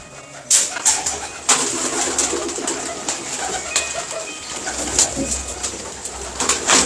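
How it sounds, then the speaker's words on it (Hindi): Pigeons coo in repeated soft, throaty bursts close by, with occasional sharper calls and rustling over a busy background of other birds. "छोटा बच्चा, बहुत ही एक्स्ट्राऑर्डिनरी कबूतर।"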